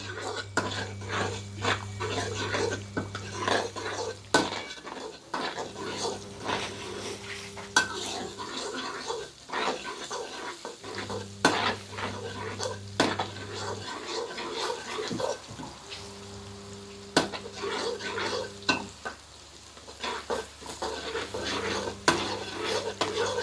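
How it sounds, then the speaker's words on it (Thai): Chili and garlic fry in hot oil, a continuous sizzle mixed with repeated metal clanks and scrapes of a utensil against the pan. "น้ำมันร้อนแล้วค่ะใส่พริกกระเทียมลงไปเลยค่ะ เจียวให้หอมค่ะ"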